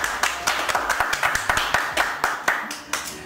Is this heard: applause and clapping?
yes